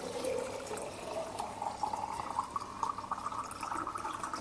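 Water is poured steadily into a jar of vegetables for pickling with garlic and hot pepper, a continuous close gurgling fill whose pitch rises as the jar fills.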